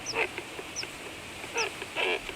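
A colony of herons and cormorants nests among flooded oak groves in Belarus, giving short, faint calls that come in scattered bursts with quiet gaps between them.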